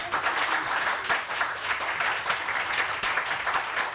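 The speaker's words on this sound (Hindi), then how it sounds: "अगर मोबाइल चाहिए तो ताली बजा के दिखाएं।" Studio audience on a morning TV show clapping together on cue, a steady dense patter of hands filling the room at moderate level without voices over it.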